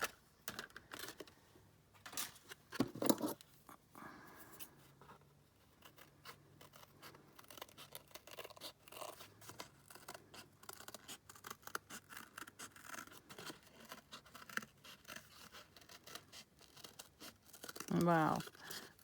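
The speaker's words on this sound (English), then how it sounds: "It's really hard to cut circles with the big scissors" Big scissors cut circles out of paper for a journal, giving crisp snipping and rustling strokes scattered through the clip, with a louder burst near the end and faint talking in between.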